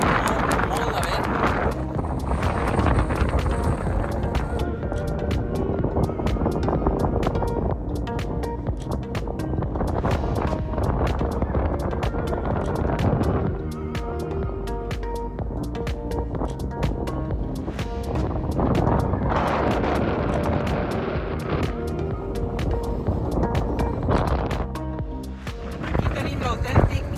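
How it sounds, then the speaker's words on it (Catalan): Strong gusty wind roars and buffets the microphone continuously in Namibia, with loud rushing noise throughout and faint voices mixed in. "Molt de vent."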